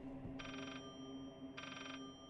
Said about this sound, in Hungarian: Találjuk meg a telefont.